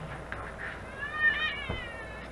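A house cat gives a short rising meow, a single clear call up close against quiet indoor background with a faint thump after it.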